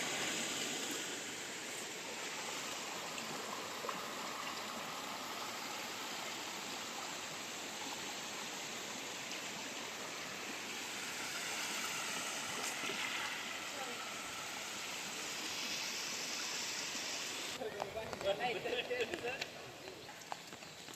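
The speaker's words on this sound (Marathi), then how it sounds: "डांबरावरून पाणी निघाले आता पाऊस उघडलेला आहे" Floodwater after record heavy rain runs across a paved asphalt road with a broad, constant rushing wash, fairly distant. A person talks faintly over it and handling bumps come near the end.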